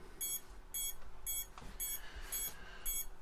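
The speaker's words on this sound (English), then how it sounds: "The ESC beeping on the Avata too, you'll hear though" ESC on a DJI Avata FPV drone sounding repeated high electronic beeps in evenly spaced bursts, about six in a row, clear over a low steady hum.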